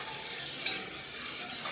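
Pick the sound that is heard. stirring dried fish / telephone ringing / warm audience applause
stirring dried fish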